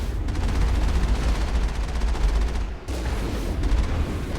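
A cannon firing in Mass Effect, heard as a rapid, loud, continuous stream of heavy booming shots with a short break just before three seconds.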